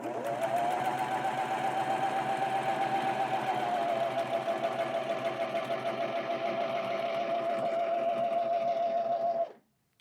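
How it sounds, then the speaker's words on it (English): A self-threading serger runs steadily at speed for about nine seconds, giving a continuous mechanical whir and buzz that stops abruptly at the end. "let me sew out the rest of this thread"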